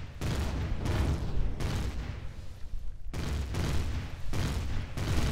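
Support gunfire in the space game Empyrion Galactic Survival during a strike-fighter attack: dense, loud bursts of rapid shots roll on almost without pause, with brief breaks between volleys.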